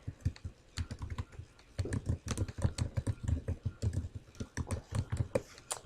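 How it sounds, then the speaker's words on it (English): A name is typed on a computer keyboard in quick uneven bursts of close, crisp key clicks, with a short pause before a longer run of keystrokes and no talk. "I will go ahead and type in my name"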